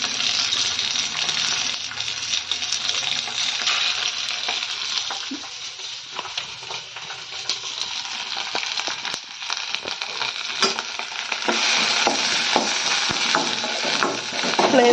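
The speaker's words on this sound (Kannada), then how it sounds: "ಶುಂಠಿ ಬೆಳ್ಳುಳ್ಳಿ ಪೇಸ್ಟ್ ಹಾಕ್ತಾಯಿದ್ದೀನಿ" Ginger garlic paste sizzles and crackles steadily in a hot pan, with a continuous bright frying hiss and occasional sharp pops and stirring scrapes throughout.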